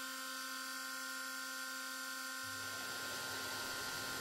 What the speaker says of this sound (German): das Fräsen der Vorderseite dauert jetzt ungefähr 5 Minuten.